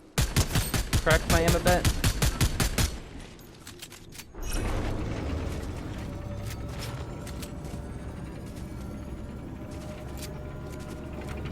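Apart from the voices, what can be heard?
Exotic Maven gun firing in video game Fortnite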